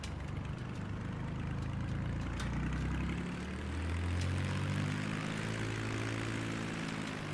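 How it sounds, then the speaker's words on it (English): Piston engine of a Black Square Bonanza in a flight simulator, a continuous steady drone with slowly wavering tones, as if heard from just outside the aircraft, loud and alone with no talk. "You can hear the engine pinging."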